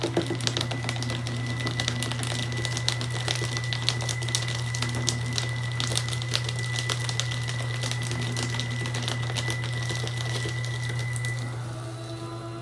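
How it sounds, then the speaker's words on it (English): A Bonsaii Evershred paper shredder chews through a stack of 14 sheets of paper, a loud continuous motor hum with dense crackling and tearing that runs steadily throughout and eases slightly at the finish. "it shreds 14 sheets of paper as stated in the manual and on the packaging without any kind of problems"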